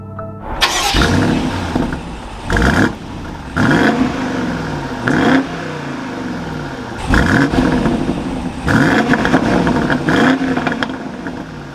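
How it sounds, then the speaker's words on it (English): The engine of a 2021 BMW X5 M50i starts up with a loud burst, then revs repeatedly, each blip rising and falling back to a steady idle, close and with no talking. "now once inside with my foot on the brake, we can go ahead and start it up"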